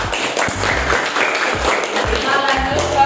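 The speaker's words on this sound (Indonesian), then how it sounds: "Tepuk tangan untuk kelompok 2." A classroom group applauds for group 2, giving dense, close clapping from many children with a few rhythmic thumps and some voices mixed in.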